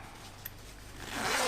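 The zipper on a handmade sewn zipper pouch is pulled open in one short, close scratchy zip that grows louder toward the end, over faint room hum.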